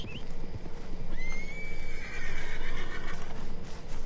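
A horse in the video game Red Dead Redemption whinnies loudly in a long, wavering cry over a steady bed of hoof clip-clops and ambient game noise, with no talking.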